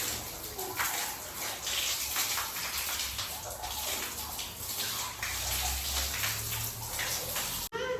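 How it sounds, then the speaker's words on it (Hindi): Tap water runs and splashes steadily while someone washes their face at a sink, a close, continuous gushing hiss that stops abruptly near the end. "तो अब मुँह धो लेती हूँ।"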